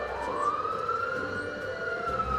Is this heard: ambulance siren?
yes